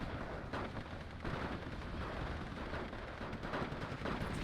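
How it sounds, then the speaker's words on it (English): Howitzer artillery fire in a strategy video game, dense rumbling booms and blasts rolling continuously at moderate distance, no voices. "there's the howitzer covering this area as well"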